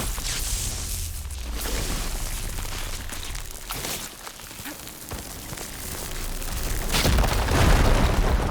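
Deep booming bursts and crackling blasts from a firegleam explosion in Horizon Forbidden West, rumbling unevenly with a heavier blast near the end, loud and close.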